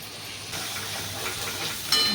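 Curry leaves hitting hot oil give a steady close hiss and sizzle that swells slightly near the end, with no voices over it.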